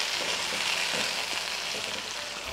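Tomatoes with red chili powder and salt being stirred in a hot pan, a soft continuous sizzle with faint spoon movements, close and fairly quiet, no voices.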